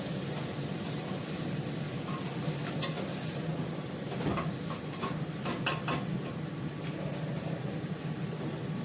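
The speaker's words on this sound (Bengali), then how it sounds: "ভালো করে কষাবো, একদম মাখো মাখো শুকনো শুকনো করবো।" Food is stirred and sautéed in a pan, giving a steady soft sizzle under occasional scraping and clinking of a spoon against the pan. No one speaks.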